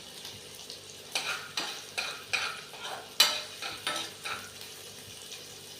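Whole spices crackling and sizzling in a hot pan as a tempering for salted rice, stirred with rhythmic scraping strokes and a sharp clink partway through.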